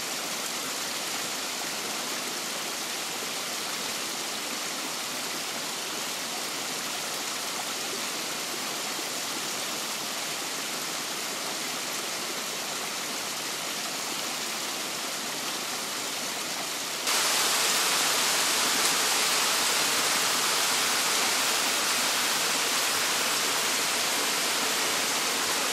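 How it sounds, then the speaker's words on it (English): Stream water rushes through a debris screen into a pipe feeding a hydro generator, a steady full-bodied roar that jumps louder and brighter partway through. "The water then goes into the pipe and then down to the hydro generator."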